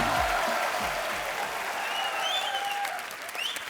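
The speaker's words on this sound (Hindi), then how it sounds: "सो आप सबकी जोरदार तालियों के बीच स्वागत करना चाहूंगा द थ्री मस्ती बॉयज" A large crowd applauds continuously to welcome the Masti 4 star cast, Riteish Deshmukh, Vivek Oberoi and Aftab Shivdasani, at a film promotion event; the dense clapping runs throughout alongside a low rhythmic music beat and faint whistles.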